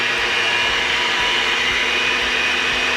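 An electric mixer whips separated egg whites for chile relleno batter, giving a steady, loud, even motor whir with no break and no voices.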